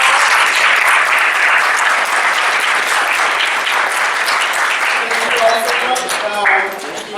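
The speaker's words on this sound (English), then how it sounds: "let's give our panel a big round of applause" Audience at an economic justice roundtable applauds its panel, a dense, steady wash of many hands clapping at close range for several seconds, easing slightly near the end with a few voices rising underneath.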